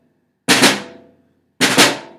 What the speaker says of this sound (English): you're going to let that first stick bounce and hit the drum twice,